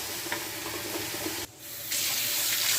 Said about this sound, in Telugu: చింతపండు కూడా ఇలా కడుక్కొని